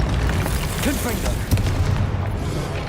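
A Confringo spell explosion from the Hogwarts Legacy video game lands as a loud, deep boom within a busy, rumbling battle soundscape, with a voice calling out over it.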